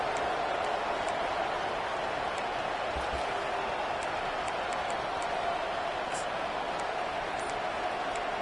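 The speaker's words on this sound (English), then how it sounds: "And this crowd coming to life here, trying to help the defense get a stop" A football stadium crowd at a college game at Oklahoma State roars in a steady, dense wash of cheering that holds level throughout, loud and sustained as the home fans rally behind their defense.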